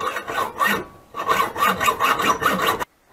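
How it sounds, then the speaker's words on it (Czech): A hand saw cutting off a broken metal part, several rough back-and-forth rasping strokes in a quick uneven rhythm, close and loud, ending abruptly. "jedině vzít pilku a uříznout"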